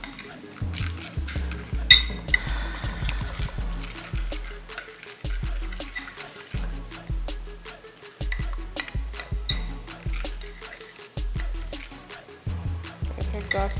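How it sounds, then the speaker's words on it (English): A spoon stirs a turmeric face mask mixture in a small bowl, making repeated soft clinks and wet scraping taps in uneven bursts, close up. "Then I'm gonna go ahead and stir it up"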